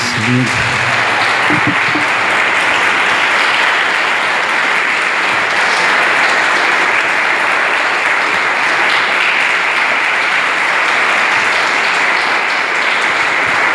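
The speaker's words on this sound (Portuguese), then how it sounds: "Salva de palmas" A crowd claps steadily and loudly for over ten seconds, a dense continuous wash of applause inside an evangelical church during a worship service.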